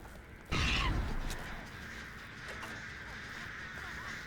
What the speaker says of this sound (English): We do get hit with the crows.